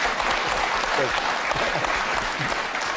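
A studio audience on a televised political debate panel breaks into loud, continuous applause, a dense even wash of clapping with faint voices beneath it.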